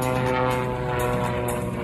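A jet-assisted Waco biplane with an R985 radial engine and an underslung jet flies past at the Gowen Thunder airshow in Boise, Idaho, a loud, close, steady propeller drone with a pulsing beat.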